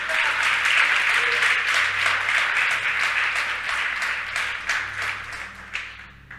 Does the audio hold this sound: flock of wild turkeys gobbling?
no